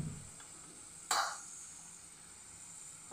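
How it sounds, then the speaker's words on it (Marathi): Chopped garlic drops into hot oil in a pan with a sudden crackling hiss that quickly settles into a soft, steady sizzle, with a faint stir or clink at the start. "तेल गरम झाले, लसूण टाकून घेऊ।"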